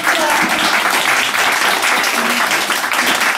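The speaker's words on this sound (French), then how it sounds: "On l'applaudit très fort." Loud, dense audience applause at a rural community gathering, steady and sustained from start to finish with no talk over it.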